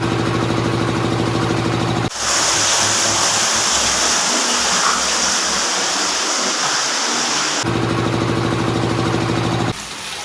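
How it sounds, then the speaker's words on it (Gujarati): Water gushes hard from a farm irrigation pipe, a loud, broad rushing roar that cuts in abruptly and holds steady, with a low engine hum heard before and after the surge. "ખેડૂત મિત્રો પાણી જોરદાર આવ્યું"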